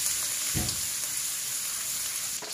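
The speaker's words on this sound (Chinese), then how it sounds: "下入姜末炒香" Minced ginger fries in hot oil in a wok with a steady, dense sizzle that stays loud and close throughout, with a brief stir-like burst near the start and no talking.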